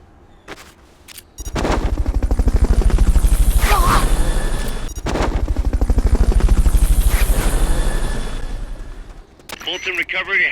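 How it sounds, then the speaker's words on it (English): Helicopter rotors beat loudly and steadily in Metal Gear Solid: Peace Walker's Fulton recovery sequence, a continuous close chopping roar across most of the clip with brief bursts and effects before and after. "Fulton recovery helicopter is complete."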